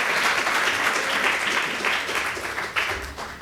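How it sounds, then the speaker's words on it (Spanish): A church congregation applauds during a Sunday service, a continuous wash of many hands clapping that stays full and even, then tapers slightly toward the end. "Dele otro aplauso, Señor, ahí con gozo."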